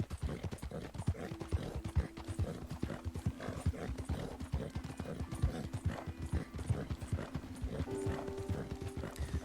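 Rapid, steady hoofbeats of a horse galloping in a video game, loud and continuous throughout with a few brief tonal game sounds over the top.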